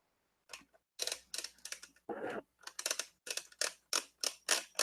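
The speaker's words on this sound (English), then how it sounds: "it pretty much ratchets back up like so" Plastic winch on a True Heroes Sentinel 1 U-53 toy helicopter ratcheting back up, a close series of sharp, rapid clicks in quick bursts, then a steady run of evenly spaced clicks, loud and alone.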